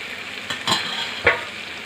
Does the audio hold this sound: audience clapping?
no